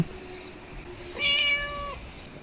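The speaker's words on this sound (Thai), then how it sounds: "อุ้ยมีแมวด้วยผมเพิ่งเห็น" A cat meows once in the video game Graveyard 404, a clear, drawn-out, close cry rising then held, heard alone over faint background hum.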